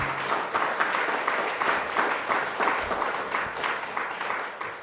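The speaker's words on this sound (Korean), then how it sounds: "박수 좀 한번 보내주세요." An audience at a church special retreat claps steadily, a dense sustained applause filling the room throughout, fairly loud and unbroken.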